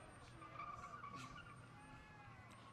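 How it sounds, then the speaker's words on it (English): At Irwindale Speedway, cars doing double burnouts produce a faint, distant, sustained tire squeal with engine roar underneath, a continuous screech that swells and fades over a couple of seconds. "Oh, now we got double burnouts."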